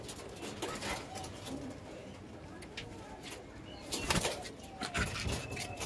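Pigeons, including a young teddy pigeon, coo softly at a loft while wings flap in a couple of sharp bursts, all faint under a busy background with people nearby.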